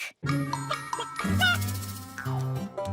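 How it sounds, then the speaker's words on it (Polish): A broken bell in a children's cartoon gives a few light tinkling dings over a bright musical background, short and close. "To tylko zepsuty dzwonek."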